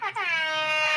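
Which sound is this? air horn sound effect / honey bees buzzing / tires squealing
air horn sound effect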